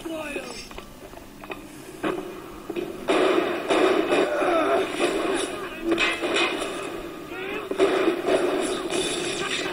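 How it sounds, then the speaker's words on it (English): Frag grenades burst in the video game Bioshock, a few loud, rumbling blasts with crackling debris that rise and linger amid game noise. "Frag grenades."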